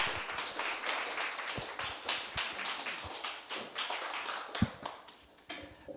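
Sunday worship congregation in a church clapping to welcome a missionary speaker forward, a sparse crowd of hands with distinct sharp claps standing out, uneven and moderately close, tapering off near the end.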